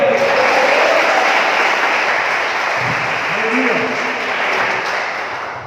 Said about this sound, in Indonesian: Tepuk tangannya di atas kepala.